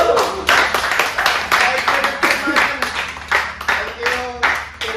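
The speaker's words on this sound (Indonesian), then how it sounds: "tepuk tangan yuk." Small group clapping during a casual Indonesian chat-show recording, uneven bursts of hand claps close to the microphone, mixed with voices talking over them.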